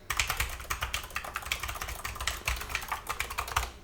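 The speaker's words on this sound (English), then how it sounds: "this 8BitDo actually uses clicky switches that have that satisfying sound and bump" Clicky switches on an 8BitDo arcade controller's buttons rattle out rapid, crisp close-up clicks in quick irregular bursts, like fast button mashing, with no voices.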